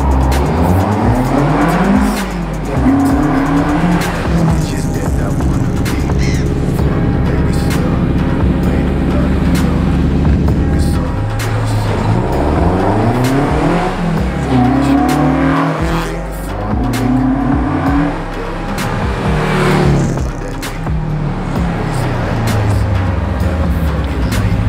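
A Nissan Champ with a swapped-in SR20 engine, individual throttle bodies, a Cometic head gasket and 264/272 cams roars loudly and continuously, revving up and down in repeated sweeps, close and dominant throughout with no talk.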